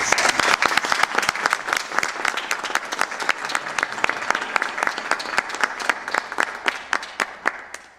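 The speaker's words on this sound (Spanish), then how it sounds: "Démosle un fuerte aplauso." Audience applause at a book presentation, with many crisp individual claps forming a lively, fairly close round that thins out and fades toward the end.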